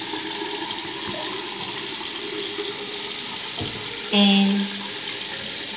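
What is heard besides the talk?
hand washing with soap under running tap water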